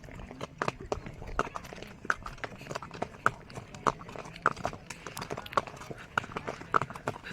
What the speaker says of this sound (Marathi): आता बघा हे जोडीचे घोडे आहेत.